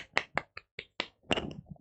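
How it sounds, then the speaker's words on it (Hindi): A few sharp, separate claps ring out in a classroom, spaced irregularly, then come in a quicker, denser burst near the end, close and fairly loud. "तालियां।"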